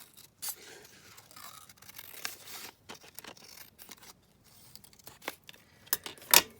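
Scissors cut out a Stamperia paper tag for a junk journal with a series of quiet, sharp snips spaced irregularly. The final cuts are louder and close by.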